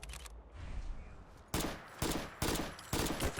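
A powerful, overpowered weapon fires in Fallout: London as four sharp, loud reports in quick succession after a brief quiet lead-in, each shot booming and then decaying before the next.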